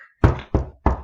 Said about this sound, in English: So they knock on Mr. A's door.